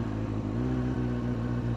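A motorcycle engine running steadily at high revs during slow-control training, a loud continuous drone close by with slight fluctuations and no voices.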